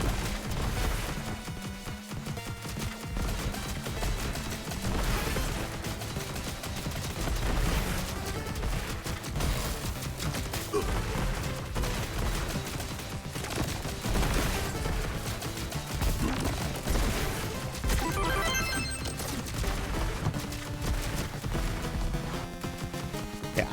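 Dense, continuous gunfire and blasts in Contra: Operation Galuga, with rapid shots and crashing impacts layered over game music throughout.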